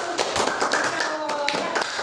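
Brief burst of group clapping by a primary school class, quick and uneven, with a voice faintly mixed in.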